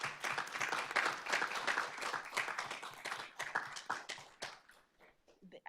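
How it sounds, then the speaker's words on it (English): A board of trustees meeting audience applauds the schedule drafting team, with dense clapping that stays steady before thinning out toward the end, and some voices mixed in. "so that we can give them a round of applause for all of the hard work that they did."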